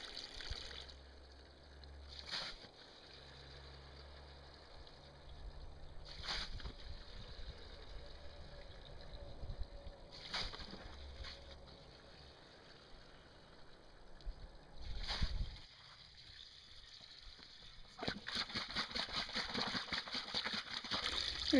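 Running water of a seasonal creek trickling and sloshing nearby, a continuous wash broken by occasional handling bumps and clatters, with no one speaking.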